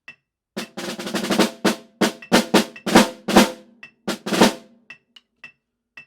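Snare drum played at a moderate mezzo piano dynamic with sticks striking about halfway to the edge, a rhythmic passage of crisp strokes and short rolls, close and dry with brief pauses between phrases.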